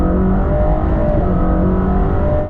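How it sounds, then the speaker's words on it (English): Mercedes-AMG GT Black Series with a 4-liter twin-turbocharged flat-plane-crank V8 producing 720 horsepower, revving hard and close with a sustained, loud, rasping engine note that cuts off abruptly at the end. "The Black Series is powered by a 4-liter twin-turbocharged V8, which is nothing new for Mercedes, except in this case, it's now a flat plane crank layout,"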